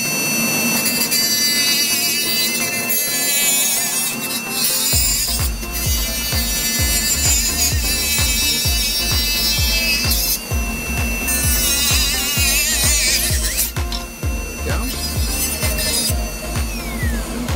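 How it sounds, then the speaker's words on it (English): A diamond disc on a dental lab mandrel cuts through a plastic dental retractor. A high, continuous motor whine runs throughout. Loud grinding pulses come in from about five seconds onward as the disc bites and follows a drawn line. "now let's use a diamond disc in the lab, a mandrel"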